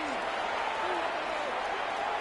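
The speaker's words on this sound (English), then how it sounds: "We're going to give out a little applause on that play." Crowd applause and cheering from a simulated Dolphins vs Jets football game in Madden 26, a steady wash of stadium noise running beneath a commentator's voice.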